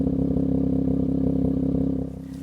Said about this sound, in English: And if you like to hear the idle exhaust note